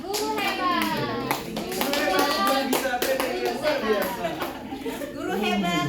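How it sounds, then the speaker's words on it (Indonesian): An audience at an Indonesian teachers' training seminar claps for the teachers, a burst of scattered hand claps under loud, overlapping children's chatter and voices. "beri tepuk tangan dulu untuk semuanya"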